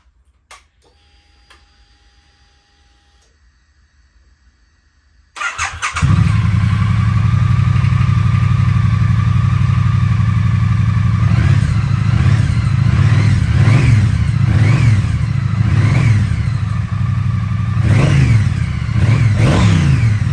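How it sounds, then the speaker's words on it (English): A few quiet clicks, then a Triumph Street Twin motorcycle engine with stock exhaust starts and idles loudly nearby, rising in several throttle blips that rev up and settle back. "fire it up so you can hear how the stock exhaust sounds"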